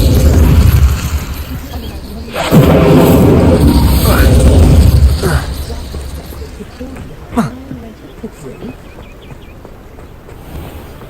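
A fiery Incendio spell blast in Hogwarts Legacy, a loud burst followed by a few further whooshing bursts, with game voices and ambience around it.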